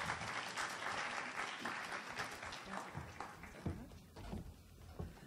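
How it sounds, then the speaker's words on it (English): Audience applause at a panel discussion on employee engagement and productivity in Jamaica, a steady, distant-sounding round of many hands clapping that fades into scattered claps with some murmuring toward the end. "Another round of applause for Mr. Clement Branche"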